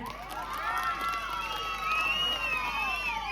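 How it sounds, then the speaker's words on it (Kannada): A crowd at a village festival for the Dandineshwari celebration in Ganiga cheers loudly, with shrill whistles rising and bending above a steady wash of voices for the whole stretch. "ಒಂಚೂರು ಜೋರಾಗಿ ಚಪ್ಪಾಳೆ ಸಿಲಿ ಹೊಡ್ಬಿಟ್ರೆ"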